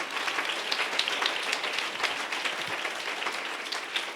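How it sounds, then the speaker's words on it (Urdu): A congregation at a Mother's Day sermon applauds, a sustained, dense clapping from many hands at steady volume throughout, without speech. "آسمان پر میرے لیے تالیاں"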